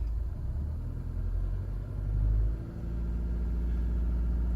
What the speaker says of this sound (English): I'll give a little rev.